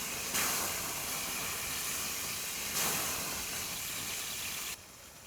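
Diced tawaka mushrooms dropped into a pan with plenty of fat at a bush campsite, a steady loud sizzling hiss that surges twice, then drops off abruptly near the end.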